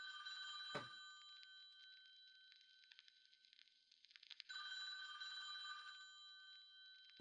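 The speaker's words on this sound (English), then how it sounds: "Can we answer the phone?" A telephone bell rings in a home, a bright, harmonically rich ring repeating steadily for several seconds with a short break midway, loud and close, with no talk over it.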